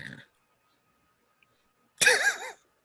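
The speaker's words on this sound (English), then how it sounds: "your cough was super weird" A short, odd cough bursts out loudly near the end, a single harsh voiced burst with a wavering tone, after a brief sound at the start and near silence between.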